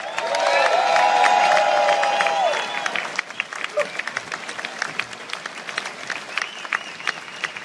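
Large outdoor crowd at a March for Science rally applauding and cheering loudly for the first few seconds, then thinning into scattered claps and whoops.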